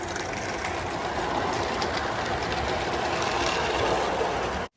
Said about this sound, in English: The loco had no trouble whatsoever pulling away with this train.